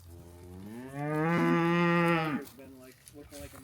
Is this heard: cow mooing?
yes